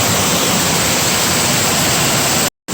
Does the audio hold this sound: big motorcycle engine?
no